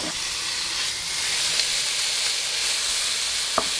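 Pork sizzling in a pan over softened garlic and onions for Filipino pinakbet tagalog, a steady loud hiss of frying with faint clicks and no talk.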